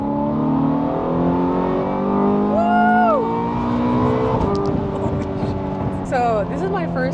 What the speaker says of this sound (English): the sound of a Ferrari exhaust brings me back to having a good day